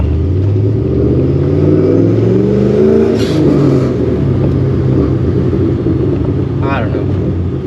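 A procharged Ford Mustang GT with a stick shift drives around the block, its engine rumbling loud and steady with rising and falling revs as it accelerates through gears, a voice briefly talking over it.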